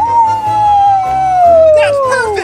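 A single person imitates a wolf howl, one long sustained wavering cry that slowly falls in pitch, loud and close, with other voices joining in briefly near the end, in a Halloween corn maze.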